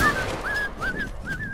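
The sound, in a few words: whistle in Hound Automaton video game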